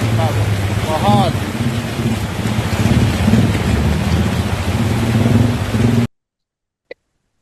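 Heavy rain with strong wind lashes the city of Metro Lampung: a dense, loud, steady roar of downpour and gusts for about six seconds, then an abrupt cut to near silence with a single faint knock.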